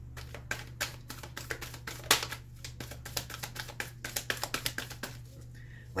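Cards being shuffled for a card reading, a run of quick soft riffling taps and flicks at close range, fairly quiet, with a faint hum underneath.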